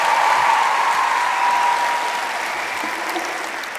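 A comedy show audience breaks into loud, dense applause, continuous clapping that starts strong and slowly tapers off over a few seconds.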